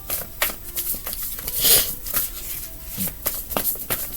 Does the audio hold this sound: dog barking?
no